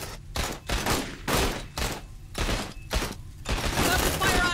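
Aliens: Dark Descent firefight with bursts of rapid automatic gunfire in evenly spaced volleys, close and loud, one running into a denser barrage at the end.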